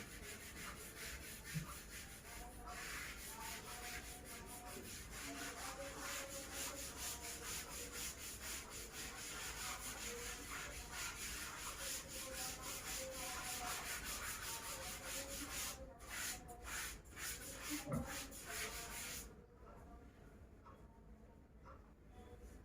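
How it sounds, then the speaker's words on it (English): Steady rubbing and scrubbing of an eraser or duster wiping writing off a board during a maths lesson, continuous and fairly even for most of the stretch before easing off near the end, with no talking. "I am erasing now."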